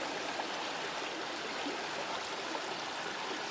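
Rusalka Brook flowing through a forest, a steady, close rushing and trickling of water that fills the whole clip with no talk.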